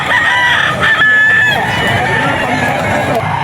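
A white streamer gamefowl rooster crows loudly and close by, a long strained cock-a-doodle-doo over a steady murmur of background chatter and other fowl.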